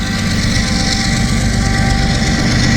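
A freight train rolls steadily past up close in Hamilton, hauled by Norfolk Southern heritage-unit locomotives, with a loud, continuous rumble of wheels and cars that holds for the whole stretch.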